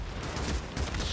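Rapid, continuous gunfire with tracer rounds in the zombie-survival game Days Gone, a dense crackling barrage of shots layered closely over a low rumble, loud and sustained with no voices.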